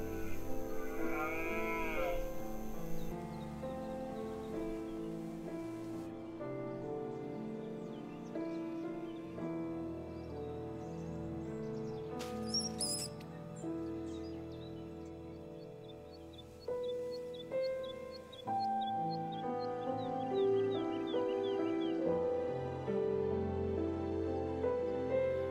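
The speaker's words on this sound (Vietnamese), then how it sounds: "Tiếng giống của hươu vang vọng trong đêm tối." Mature deer stags calling during the mating season at night, long drawn-out bellowing calls rising and falling, repeated over the span and echoing in open surroundings.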